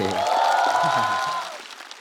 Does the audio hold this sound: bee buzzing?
no